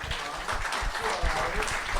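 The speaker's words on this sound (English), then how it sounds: "Yeah, you clap. You clap." Scattered applause from a small studio audience during a live football talk show, a brief burst of clapping mixed with talking.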